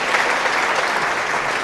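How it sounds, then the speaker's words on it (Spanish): A church congregation applauds during a sermon by Pastor Sebastián Arbelaez, a loud, steady burst of many hands clapping that fills the room without voices. "denle un aplauso al Señor"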